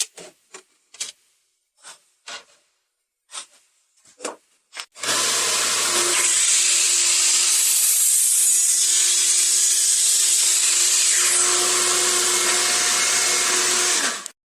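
A power saw rips a 2x10 lumber board lengthwise in a loud, steady cut of about nine seconds, preceded by a series of short knocks and handling sounds.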